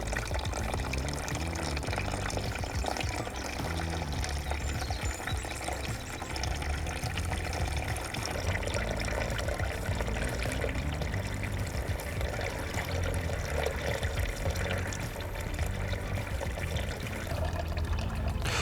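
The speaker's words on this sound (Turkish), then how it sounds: "Şimdi radyatörümüze içme suyumuzu boşaltıyorum. Bunu buradan döktükçe aşağıdan tertemiz su akacak." Drinking water is poured into a motorcycle radiator and drains out below in a steady, continuous wash of running, trickling water, fairly close and unbroken throughout.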